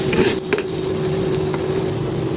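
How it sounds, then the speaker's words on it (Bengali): Onions fry in medium-hot oil with a soft, continuous sizzle, close up, with a couple of light utensil taps near the start and no talking. "আমি অল্প মিডিয়াম তেল পিঁয়াজটা আগে ভেজে নেবো"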